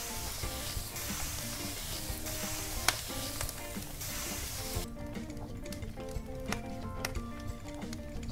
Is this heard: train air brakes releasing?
no